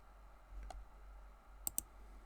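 Two quick, crisp clicks of a computer mouse sound close together near the end, over a faint steady hum.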